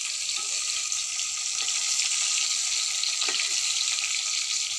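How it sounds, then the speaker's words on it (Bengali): Large pieces of fish fry in oil on a home stove, a steady bright hiss with brief pops and crackles, close and continuous with no talking. "মাছটা ভাজা হচ্ছে।"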